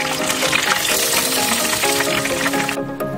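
Breaded chicken katsu fries in hot oil with a dense, continuous crackle and sizzle, close and steady for a few seconds before it briefly drops away.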